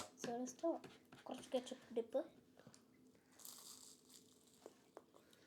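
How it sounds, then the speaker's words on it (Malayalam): A crispy homemade egg puff is bitten with a faint, brief crunch after several seconds of talking, with a voice among the speech. "അത് കടിക്കുമ്പോൾ ആ സൗണ്ട് ഉണ്ടല്ലോ ഇവാനെ ഒന്ന് കടിച്ചു കാണിച്ചേ"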